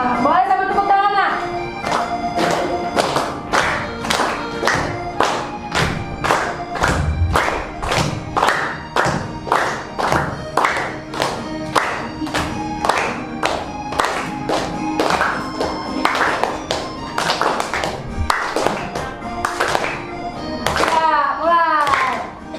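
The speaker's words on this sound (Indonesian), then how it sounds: "boleh sambil tepuk tangan lah" Schoolchildren clap along in steady rhythm to music in an Indonesian classroom, a quick regular pulse of sharp hand claps over a melody with young voices singing, close and lively throughout.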